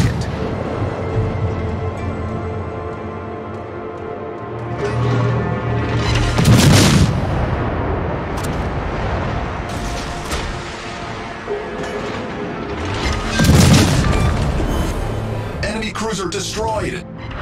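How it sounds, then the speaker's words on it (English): Heavy naval gunfire from a Tier 7 Fiji cruiser in World of Warships, shelling an enemy warship: two loud booming salvos with rumbling tails about seven seconds apart, over continuous engine drone and battle noise. "Straight fire on the enemy warship."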